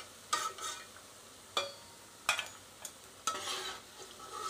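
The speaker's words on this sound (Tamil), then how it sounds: "போண்டா நல்லா வெந்துருச்சுங்க, இந்த ஸ்டேஜில் எடுத்துக்காங்க." Bonda fries in hot oil with a faint, soft sizzle, broken every second or so by brief louder splashes and stirs as the pieces are moved around.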